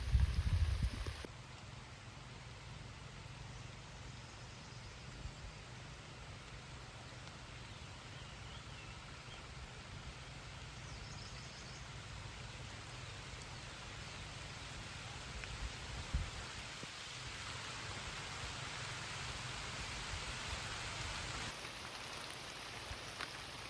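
Steady rain falls in a continuous soft hiss in a mango orchard, constant and fairly quiet throughout, with no voices.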